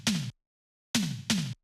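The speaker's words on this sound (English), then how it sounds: "And this tom fill is also here just before the drop hits." An 80s-style electronic tom fill leading into a tech house drop: three punchy tom hits with a falling pitch, one alone and then a quick pair after a pause, loud and dry with no voices.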